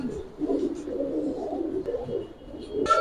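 A large kaldom pigeon coos close by in soft, low repeated murmurs, with a brief higher rustle near the end.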